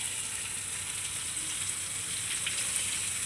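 Onions and green chilies sizzle and fry steadily in hot oil for a dish of do pyaza, a continuous bright crackling hiss at moderate level with no talking.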